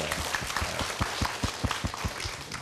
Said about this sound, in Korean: 우리 답변해 주신 선생님을 위해서 박수를 한번